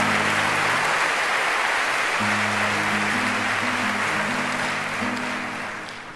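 Audience applause fills a concert hall at the Liceo de Barcelona during a concert, dense sustained clapping under a held low organ-like tone, fading slightly at the end.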